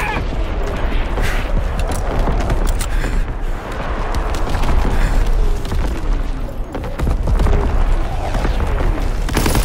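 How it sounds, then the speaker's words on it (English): Naval primary battery guns firing in Call of Duty WW2, heavy booming blasts layered over constant loud battle rumble and scattered gunfire, dense and continuous. "Firing primary battery."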